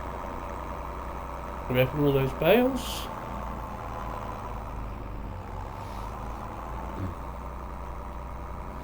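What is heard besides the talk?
tractor engine driving in a farming video game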